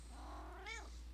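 A pet cat gives a single short meow, faint and fairly close, in an otherwise quiet room.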